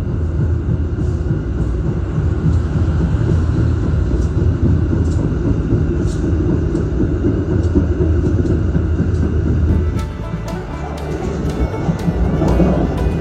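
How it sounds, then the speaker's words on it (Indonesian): A steady loud rumble of rails and wheels heard from aboard the Gajayana passenger train as it overtakes the Singasari train, with no voices. "Kita menyusul kereta api Singasari yang ada di jalur 3 ya teman-teman."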